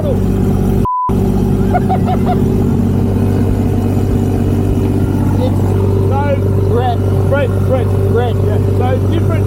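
A race boat powered by a 1500 HP Ford six-cylinder turbo engine runs at high speed, its steady, loud engine drone and rushing water continuing throughout with a brief dropout near the start, while people talk over it.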